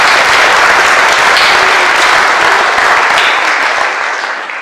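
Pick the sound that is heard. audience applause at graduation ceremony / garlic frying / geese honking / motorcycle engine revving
audience applause at graduation ceremony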